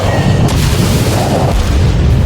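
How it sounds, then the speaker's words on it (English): Naval gunfire and explosions from the warship battle game World of Warships, a dense, continuous roar of booming shots and blasts with no pauses, loud and close throughout. "Gunfire on the right, explosion over there."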